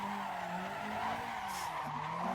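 Continuous tire squeal from a car spinning donuts in Assetto Corsa, a steady screech with the engine droning underneath and a brief louder surge midway.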